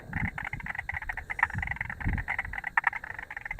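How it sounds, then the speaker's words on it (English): A banjo frog, also called the great bullfrog and Victoria's largest frog, calls at night amid a dense chorus of other frogs, giving steady pulsing croaks with a faint low rumble underneath. "That is a banjo frog, or the great bullfrog, that one"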